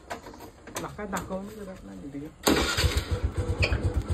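A motorbike engine starts up outdoors and settles into a loud, steady, throbbing idle close by, right after a stretch of people talking.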